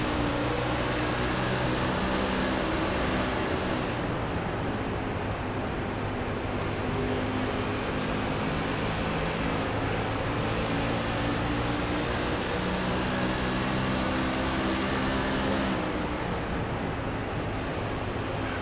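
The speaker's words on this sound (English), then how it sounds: "Take a listen to this car, see what the throttle application's like." A race car engine in the iRacing game, a Silver Crown car at Iowa, drones loudly and continuously at a steady high pitch. Small throttle variations shift its tone, and nobody speaks over it.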